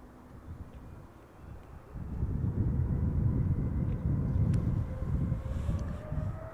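An Airbus A350 on approach at Schiphol Airport rumbles in as a low broad roar that swells after a couple of seconds and holds, distant and steady, with no talk.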